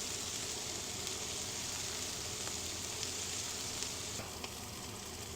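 Bread toasts in butter on a Wolf griddle for smashburger pretzel buns, producing a continuous close, dense sizzle and crackle with faint occasional scraping, no talk.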